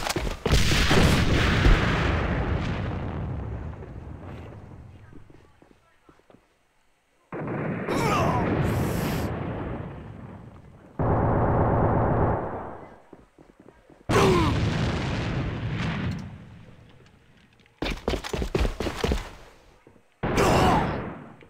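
A thrown grenade detonates amid gunfire in the AVA shooter game: loud booming blasts and sharp shot bursts come in separate clusters broken by abrupt silences.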